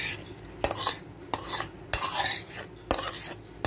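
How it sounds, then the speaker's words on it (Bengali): A metal spatula stirs home-made fried rice in a pan, making about five rhythmic scrapes and clinks against the metal at close range. "সবটা আমি মিশিয়ে দিচ্ছি।"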